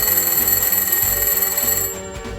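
An old Spanish rotary telephone's mechanical bell rings loudly and close in a rapid, continuous metallic trill that stops abruptly near the end, leaving a fading resonance.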